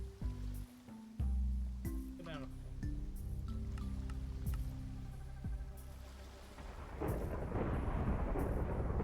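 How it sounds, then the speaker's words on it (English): Thunder rumbles and rain patters in a Minecraft world, deep rolling booms layered with steady rainfall that grows hissier toward the end, heard over background game sounds. "Started the stream with a rainstorm."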